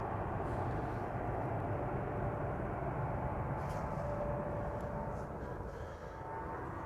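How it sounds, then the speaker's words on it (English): KLM Boeing 787-9 Dreamliner, six years old and bound for Austin, Texas, heard at Amsterdam Schiphol as a steady, broad jet roar with a faint tonal whine, continuous and moderately distant throughout. "KLM Flight 667 on its way to Austin, Texas, 7879 Dreamliner"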